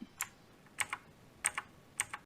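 Keys on a HAVIT backlit keyboard are pressed in sharp, clicky pairs, about four quick double taps spaced evenly, close and crisp against a quiet background.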